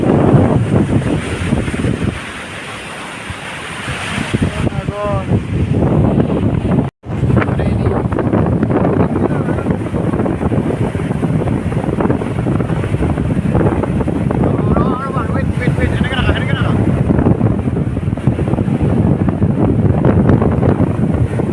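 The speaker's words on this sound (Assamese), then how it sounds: "বহুত বতাহ মাৰি আছে ইয়াত," Strong, steady wind roars and buffets the microphone at Marina Beach in Chennai, beside the sea, with surf washing underneath throughout, loud and close.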